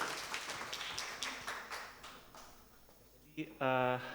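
An audience at a piano masterclass applauds to welcome a pianist, with quick, lively clapping that gradually thins out and fades, followed by a brief voice at the end.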